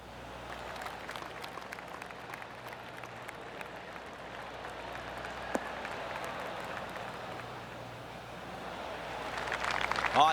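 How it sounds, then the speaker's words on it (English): Golf gallery applause from the PGA Tour 2K25 video game during a FedEx playoff event at the St Jude Championship, heard as a steady, moderately distant wash of clapping across the course that swells toward the end. "I can hear the golf claps around the course."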